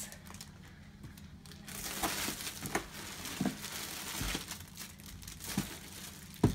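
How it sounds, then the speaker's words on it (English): Soft plastic packaging crinkles and rustles close by in irregular bursts, with occasional sharper crackles, no voices. "I'm not going to touch the plastic because it does make a horrible noise on video"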